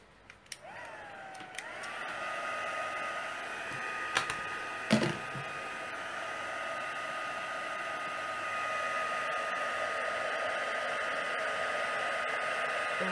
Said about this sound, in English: We'll heat set that.